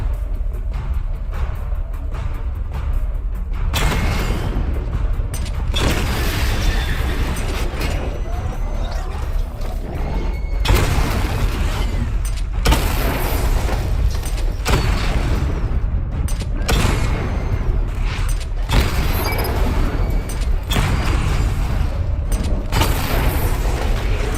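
Batman Arkham Knight missile barrage explosions: loud, repeated booming blasts in bursts over a constant rumble, with mechanical whirs between the salvos.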